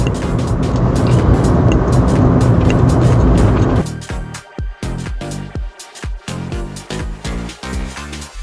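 Car driving along a road, a steady rumbling road and engine noise that abruptly drops away, followed by a series of rhythmic thumping knocks at regular intervals, heard from inside the vehicle with no talking.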